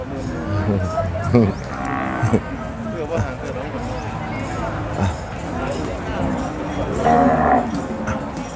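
Cattle at an outdoor market moo loudly several times, with a cowbell and hoof clatter amid crowd babble and someone talking.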